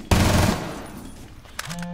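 Gunfire in Rainbow Six Siege, a loud close shot with a ringing tail that decays over a second, followed by a fainter snap and a short electronic tone; no talking.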